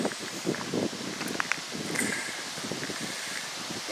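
Wind blowing across open moorland at an old wartime airfield, a steady close rushing noise with buffeting gusts and some rustling, no voices.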